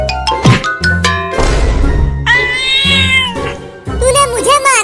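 A cartoon cat meows and yowls in several loud, drawn-out cries, mixed with short thumps and a human voice speaking in Hindi.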